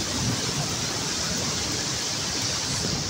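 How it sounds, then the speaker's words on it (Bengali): Steady rain pattering onto the leaves of a tree on a day of heavy downpour, a dense, even hiss that holds at the same level throughout with no voices. "দেখেন গাছে বৃষ্টি পড়তেছে, গাছের পাতায়"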